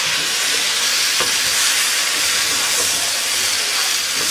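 Eggplant and tomatoes are stirred in a hot pan over a steady, even hiss of frying, with faint scrapes of the spoon.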